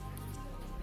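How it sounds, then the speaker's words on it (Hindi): Steady rain falls in a rainy season setting, making a dense, continuous pattering hiss with no break and no voices. "बारिश का मौसम है"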